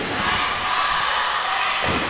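A loud basketball tournament crowd roars steadily in a packed gym during a CESAFI Season 24 game, a dense unbroken wall of cheering where drum and bugle band playing is not clearly picked out.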